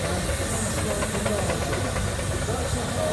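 A half-size, six-inch-scale blue steam engine at a steam and craft show hisses steam loudly and steadily, with a low engine chug underneath and voices in the background.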